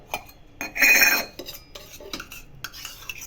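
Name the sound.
kadhai (wok) being placed on the stove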